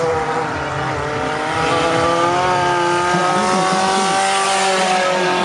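Race cars in the Velocar final speed past on the track, a loud rising and falling engine whine with sweeping pitch as the leader and following cars go by, no voices.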